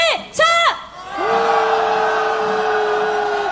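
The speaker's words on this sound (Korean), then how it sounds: "김건희의 엄벌을 향한 분노의 함성 질러옵시다." A large protest crowd demanding punishment for Kim Keon-hee gathered at Gwanghwamun raises a sustained, loud roar of shouting voices after a brief amplified call from a leader.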